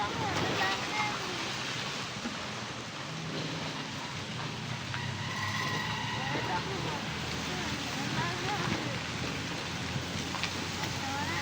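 Water waves roll in continuously with a broad, steady wash of surf that stays fairly close and even, overlaid with wind noise and faint, indistinct voices.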